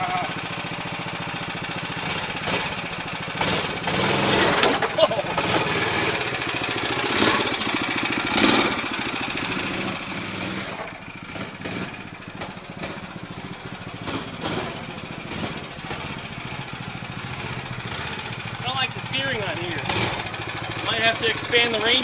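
The small engine of a VW bus go-kart running on its first ride buzzes and chugs steadily throughout, its pitch rising and falling, with people talking over it.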